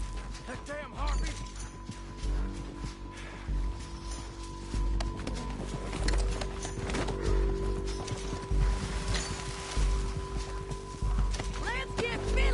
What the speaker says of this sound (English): We need our horses.